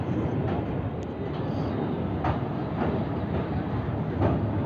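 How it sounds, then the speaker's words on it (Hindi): The Kishanganj Garib Nawaz Express runs through dense fog, with a steady low rumble of wheels on rails and occasional rhythmic clicks from the track joints, loud and unbroken from the inside of the moving train. "जीरो विजिबिलिटी में गाड़ी चल रही है"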